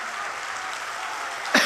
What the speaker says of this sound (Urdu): مجھے ایک بار زوردار تالی بجا کر کے حکم دیجئے